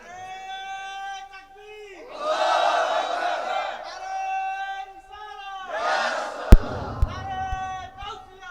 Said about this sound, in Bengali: হাবিব একটা জোরে তাকবীর দেন